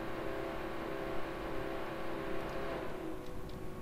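An engine in From The Depths running at full throttle, a steady droning whir with sustained tonal hum, loud and unbroken from start to finish.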